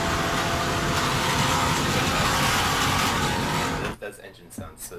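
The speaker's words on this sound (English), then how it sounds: "That engine sounds so sweet." A car engine runs loud and steady as it plays back from a video, filling the room with a broad roar under people talking, then cuts off abruptly near the end.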